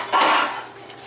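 A lid clanks down onto a pan of stuffing for stuffed peppers, one sharp metallic clatter that rings briefly and then fades.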